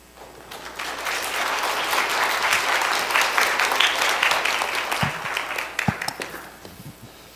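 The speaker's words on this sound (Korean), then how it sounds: "우리 목사님 나오실 때 뜨거운 박수로 환영하는 시간 갖기를 원합니다" A church congregation applauds warmly to welcome their pastor at a 25th-anniversary ordination thanksgiving service in Suwon, the clapping swelling into a steady, full round before thinning into scattered last claps.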